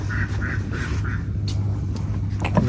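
Two village ducks quack close by, a short series of four rhythmic nasal calls followed by scattered softer quacks over a steady background hum.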